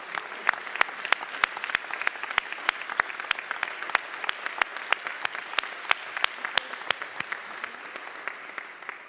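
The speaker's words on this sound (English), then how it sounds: "Let's give Keisha another round of applause." Scattered applause at a mayor's press conference, sparse and fairly quiet, with individual claps standing out in a loose, irregular rhythm rather than a full ovation.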